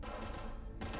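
Gunfire in Cyberpunk 2077 sounds as a dense, continuous burst of rapid shots, a loud, unbroken rattling barrage that cuts off sharply before resuming, with no talking.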